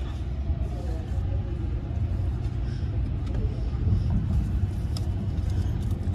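Aboard the Sunrise Seto sleeper train, bound for Kotohira, as it departs Sakaide Station, there is a continuous low rumble with faint clicks of the wheels on the rails, steady and enveloping from inside the carriage.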